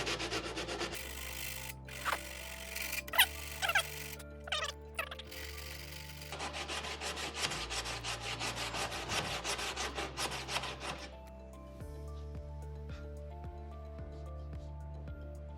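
Old glue being sanded off a board for a custom wooden shelving unit, producing a continuous close rasping rub in steady strokes, layered over background music.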